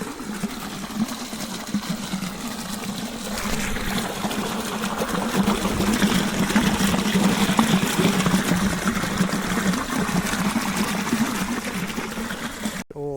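Water rushes steadily into a farm irrigation channel, a continuous loud flow with a mechanical pump-like hum running underneath, ending abruptly.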